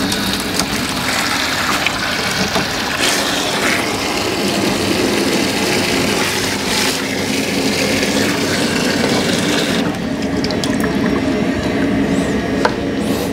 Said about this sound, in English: What I'm gonna do is open up the cold water inlet valve to the water heater. That way I can flush this out with fresh water.